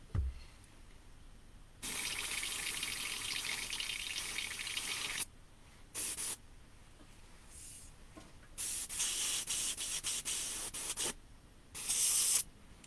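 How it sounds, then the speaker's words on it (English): An airbrush is backwashed with reducer, giving close, fairly quiet hissing spray bursts of varying length separated by short pauses. "Then finger over the end and backwash it, and you'll be surprised how much extra's in there."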